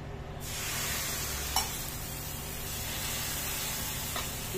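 Water splashed into a hot pan holding a kulcha bursts into a loud, steady sizzle and hiss that fills the whole stretch, with a couple of faint clicks and no talking.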